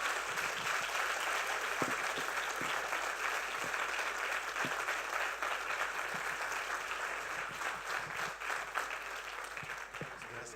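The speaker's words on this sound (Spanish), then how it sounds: "Demos un aplauso al Espíritu Santo, demos un aplauso al Señor." Congregation applauding during a Spanish-language church service, a steady, dense wash of many hands clapping that carries evenly through the whole stretch and eases off slightly toward the end.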